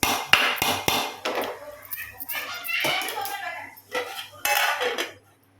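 A metal lid is set onto a cooking pot while making aloo kurma with beans and carrot, with sharp clattering clinks of pots and utensils early on, under talk.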